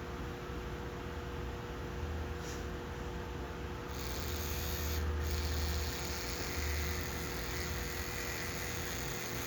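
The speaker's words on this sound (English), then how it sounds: "take your toothbrush, put it on the back of your flower," An electric toothbrush pressed against the back of a tomato flower to shake loose pollen, giving short, faint, low buzzing bursts that come and go under a steady hiss.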